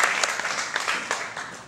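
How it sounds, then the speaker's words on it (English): Audience at a science festival talk show gives a steady round of applause, dense clapping from many hands that holds through the short stretch without a break. "Round of applause."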